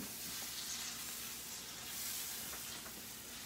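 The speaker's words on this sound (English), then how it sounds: "we're gonna go now and sear all that in the olive oil" Vegetables searing in olive oil in a pan, a steady quiet sizzle and hiss with no voices.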